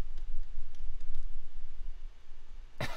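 A single sharp computer mouse click lands near the end, loud and close, after a stretch of quiet low room hum.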